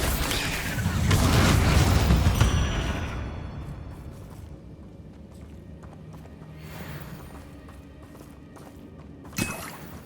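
Bombarda spell blast in the Hogwarts Legacy video game: a loud, broad rumbling explosion swells for a couple of seconds, then fades into a lower din of combat noise, with a sharp crack near the end.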